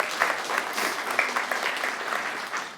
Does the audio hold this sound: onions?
no